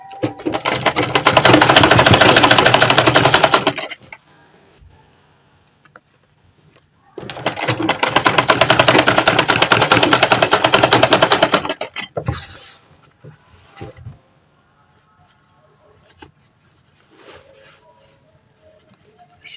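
A sewing machine stitches close to zipper teeth in two long, fast, loud runs of rapid mechanical whirring, separated by quiet gaps with soft handling clicks and rustles.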